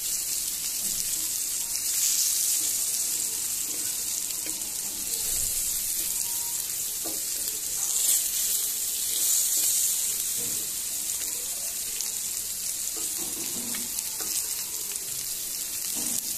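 Teasel gourd, potato and eggplant frying in a pan, a steady close hiss of sizzling oil that runs continuously with slight swells and occasional soft stirring clinks.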